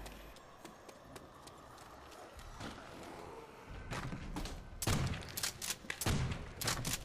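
Several loud, sharp gunshots crack in quick succession in the second half of Call of Duty: World at War gameplay, after a quieter stretch of movement and thuds.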